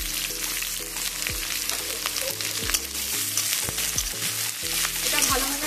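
Chopped onion and garlic sizzle in hot oil for a fish-head and taro-leaf dish, a steady close frying hiss with background music tones and a few clinks.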